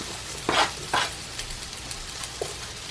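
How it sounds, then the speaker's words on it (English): Potatoes fry in a skillet with a soft continuous sizzle, punctuated by a couple of brief louder stirring or scraping bursts near the start, close by with no talk. "I'm gonna cook them in 2 separate skillets."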